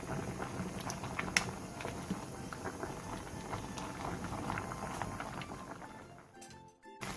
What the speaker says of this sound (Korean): 중약불로 졸여 25분에서 30분간 졸여주세요